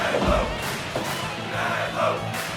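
A hostile wrestling crowd shouts and cheers in a dense, continuous roar, with loud swells of yelling and a few thuds from the ring underneath.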